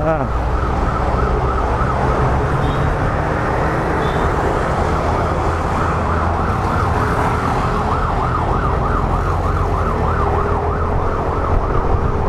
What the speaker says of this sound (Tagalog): lusutin nyo na yung ambulansya